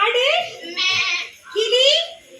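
A person imitates a goat, producing two loud, wavering bleats close up with a short pause between them.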